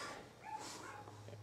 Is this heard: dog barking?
yes